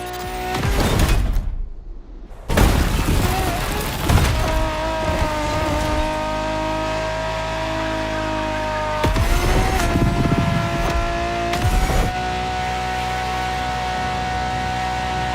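Ferrari's strongest naturally aspirated V12, an early hybrid supercar, roars through a racing game, its steady loud engine tone holding between brief bursts and a short silent gap, with sharp transients marking gear changes.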